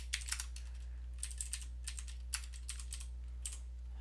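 Rapid bursts of typing on a computer keyboard while entering code, with clustered clicky keystrokes separated by brief pauses over a steady low electrical hum, close and fairly quiet.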